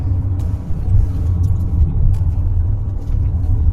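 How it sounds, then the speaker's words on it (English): A car on a Downsview road-test route hums steadily from inside the cabin, with a low engine and road rumble as it gathers speed toward 50 with no voices. "So we're speeding up to 50 now"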